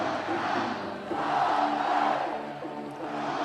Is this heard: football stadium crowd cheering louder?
yes